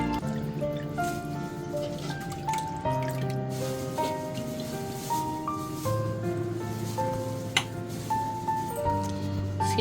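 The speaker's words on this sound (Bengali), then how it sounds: "দেখেন কত সুন্দর একটা বলক চলে আসছে" Haleem with bay leaf comes to a boil in a pot, giving soft steady bubbling and dripping sounds that run throughout under continuous background music.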